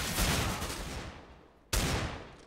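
Gunfire in Counter-Strike on de_cache during a DreamHack Masters Malmö 2016 match, a loud broadband burst that trails off, then a second sharp shot after a brief quiet gap, with no talking.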